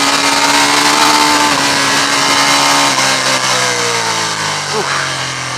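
A 2015 Ducati Diavel cruiser on a fast countryside ride, its engine loud and close with a rising then falling note under heavy wind rush.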